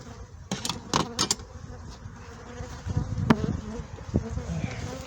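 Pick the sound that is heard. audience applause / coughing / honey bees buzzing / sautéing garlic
honey bees buzzing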